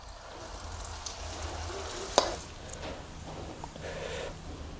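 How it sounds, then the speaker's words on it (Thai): Enoki mushroom fritters fry in hot oil with a steady crackling sizzle throughout, interrupted once by a sharp clink of a utensil. "แล้วก็ทอดต่อให้หมดเลยครับ"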